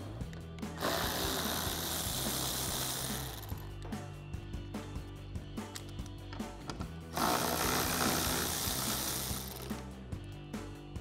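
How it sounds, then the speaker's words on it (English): Power tool, likely an impact driver with a 10mm socket, removing bolts and a nut from the grille of a 2021-2023 Ford F-150: two loud whirring bursts near the start and end, with quieter handling noise between. "So I've got a 10mm socket to pop these off."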